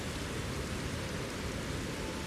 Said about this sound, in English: It's raining, it's not really pouring